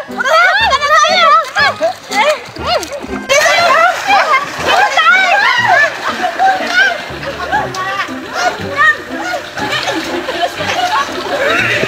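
Children splash in a swimming pool with a slide, the splashing almost constant and close, mixed with their chatter, giggles and shouts.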